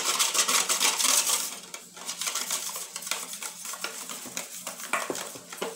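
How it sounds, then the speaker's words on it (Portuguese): Oat flour being stirred bit by bit into homemade bread dough in a bowl, with close, continuous scraping and stirring strokes, busier at the start, and no talking. "Vou ir adicionando e misturando aos poucos"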